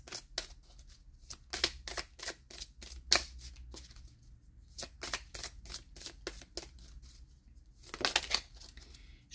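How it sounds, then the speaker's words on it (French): Tarot cards being drawn and shuffled by hand, a series of crisp close riffling and flicking bursts in irregular clusters with quiet gaps, no talking. "Je vais, pardon, tirer une dernière carte."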